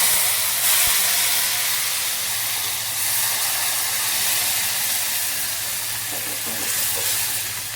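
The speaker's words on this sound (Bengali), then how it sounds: "তারপরে কিন্তু দিয়ে দিব বাগার" Chopped garlic sizzles in hot oil for a baghar tempering, a loud, close, unbroken hiss that holds steady throughout, with no voices.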